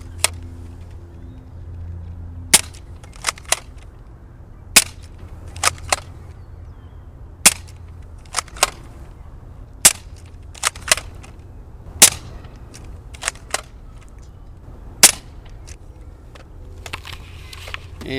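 A modded Nerf Elite Strongarm blaster firing 50 cal slugs, sharp snappy pops repeated a dozen-odd times at uneven intervals, some doubled with clicks of priming, over a low background hum.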